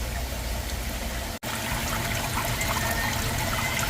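Water trickles and pours steadily through flow-through holding tanks for live fish and crayfish at a tropical fish wholesale facility, a constant hiss that cuts out for an instant partway through.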